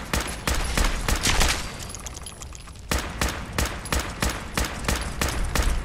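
Heavy gunfire in Fallout 4, a rapid run of loud sharp shots in quick succession, a brief lull, then another steady volley of repeated blasts.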